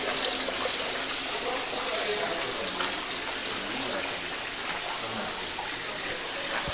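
Water pours from a main tap into a fish pond at a fish farm, a steady close rushing and splashing that runs unbroken, with faint background activity underneath.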